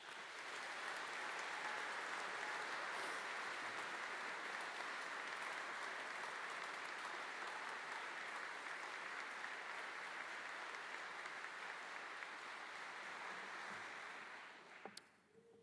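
A large audience at a PhD graduation ceremony applauds the graduates with long, sustained, even applause that fills a big hall before fading out at the end.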